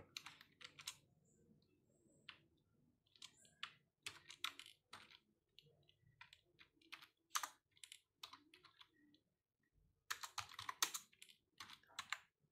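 Computer keyboard typing in bursts of quick, close key clicks with short pauses between, entering an ID number into an online form, with no talk.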